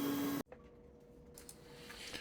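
An Anycubic 3D printer fitted with a ceramic hotend runs a print, giving a quiet, steady motor hum with a faint sustained tone and occasional soft ticks after a brief louder burst at the start.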